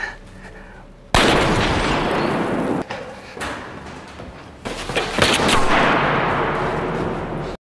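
A film gunfight roars with dense bursts of gunfire and heavy blasts, loud and continuous with brief gaps between volleys and no clear voices.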